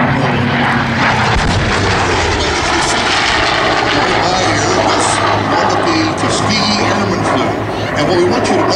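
A Packard-engined D-model warbird flies past at the Sun 'n Fun 2012 airshow, its loud propeller-engine roar sustained and steady throughout, with a commentator's voice mixed in.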